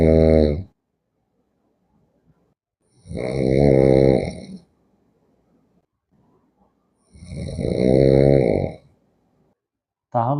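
A man snores loudly in a shared room, with three long rasping bouts separated by quiet pauses of several seconds.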